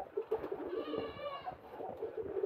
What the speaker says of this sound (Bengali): কবুতর একটি শখের কবুতর, কবুতরগুলো খুব ভালো